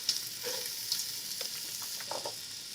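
Carrots drop into a hot pan with salt, setting off a steady broadband sizzle with a few stirring scrapes and small clatters on top, close and moderately loud.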